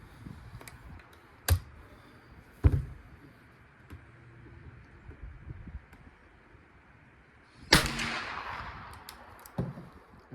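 Sharp, distant-sounding gunshot reports from a Chazzel firearm: two brief cracks early, then a louder blast near the end trailing into a short echo, over quiet ambient background.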